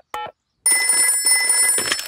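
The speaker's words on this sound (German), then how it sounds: "ich werde den Doktor anrufen" In a Peppa Pig cartoon, a telephone rings with a bright, electronic trilling tone that sounds close and loud, following a short beep from a button press.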